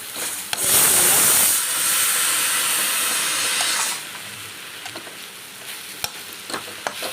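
Spicy Tamil fish curry masala sautéing in a pan, a loud steady sizzle and hiss that swells for a few seconds and then settles to a quieter frying, with a few sharp scraping stirs near the end.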